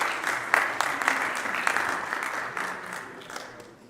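A big round of applause from a conference audience in a Leipzig session hall during Data Week, with steady crowd clapping that gradually fades toward the end.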